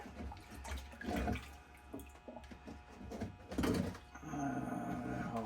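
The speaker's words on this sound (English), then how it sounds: "I'm just going to pan this right here." Black sand being panned for gold in a pan of water, giving irregular sloshing and swirling splashes close by, with surges of louder washing between quieter trickles.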